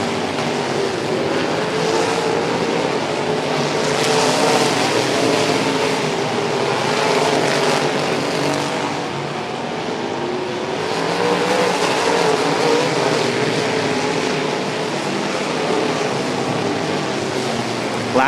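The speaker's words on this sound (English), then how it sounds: "The slower car right in front of your race leader, Mike Washburn." Race cars at the Louisiana Dirt Track State Championship at Boothill Speedway, a dense continuous engine roar from the pack passing through, loud and sustained with slight swells as cars come by.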